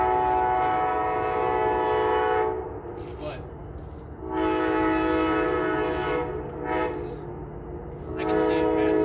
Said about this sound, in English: and I'm sorry about that train,